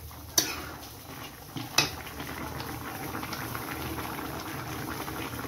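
Goat meat curry cooked without oil bubbles in a pot, a soft continuous simmering hiss with two sharp metallic clinks of utensil against the pot near the start.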